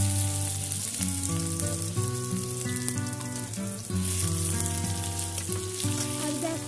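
Onions fry lightly in oil for a spicy duck meat curry, a steady sizzling hiss running beneath loud, continuous background music throughout.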